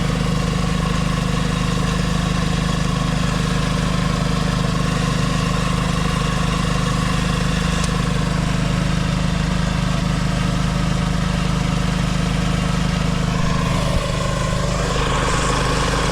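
Old tractor engine idling steadily with a low, even chugging hum, close by and constant, with a brief clank near the end.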